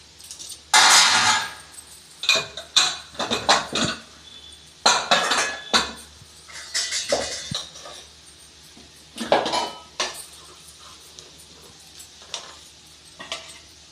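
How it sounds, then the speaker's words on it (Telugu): Vegetable fried rice is being made as cooked rice is tipped into a pan of softened vegetables, with repeated metallic clatters and scrapes of a spoon against the pan coming in irregular bursts, close and fairly loud. "ఇప్పుడు నేను రైస్ వేస్తున్నా."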